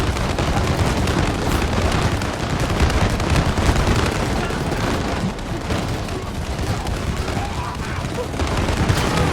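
Firecrackers explode in the co-op video game It Takes Two, a loud, continuous barrage of rapid crackling bursts that barely lets up for about nine seconds.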